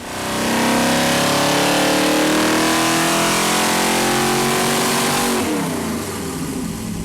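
A Chevy 454 V8 on a dyno roars loudly at full throttle, its pitch climbing steadily through the pull, then dropping off as the revs fall away near the end.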